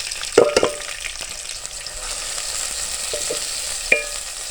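Chopped onion sizzles steadily in oil in a pan, a continuous close hiss broken by a few louder clinks and stirring knocks near the start and end.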